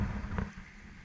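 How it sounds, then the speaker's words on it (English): Gusting wind buffets a 29-foot sailboat at sea with a reefed main, a steady broadband rush with a brief louder surge near the start, fairly close and with no talk. "even if it's gusting,"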